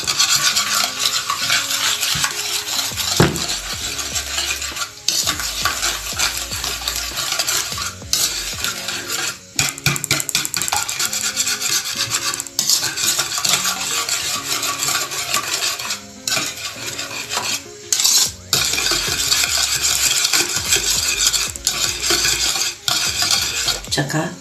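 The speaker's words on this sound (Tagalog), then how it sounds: "Stir natin nga with sa sugar. Parang tutunaw ang sugar sa egg." Egg and sugar being stirred together in a bowl, continuous scraping and clinking of a utensil against the sides, close and steady throughout with no voices.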